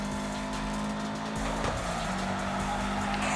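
Race cars in a Need for Speed video game roar along with a sustained engine drone, tires squealing and skidding midway through, loud and continuous.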